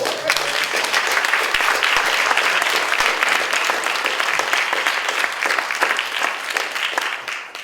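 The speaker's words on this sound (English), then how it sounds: "Can we give another round of applause for all?" A colloquium audience applauds the panel with a continuous, even patter of many hands clapping in a hall, steady throughout before thinning at the end.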